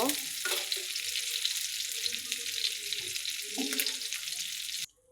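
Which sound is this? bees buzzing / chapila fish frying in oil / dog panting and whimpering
chapila fish frying in oil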